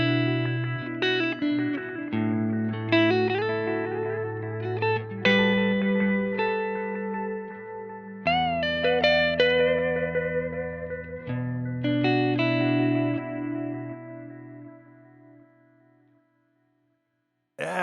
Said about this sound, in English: in this modulation, and it just had this great effect to it